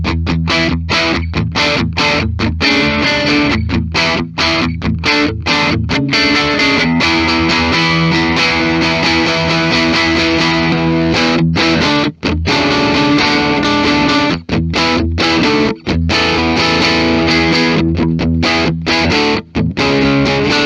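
A Duesenberg Starplayer TV Phonic electric guitar in Venetian White, with both pickups in phase, plays loud, continuous distorted chords and riffs with brief choppy stops, alone without talk.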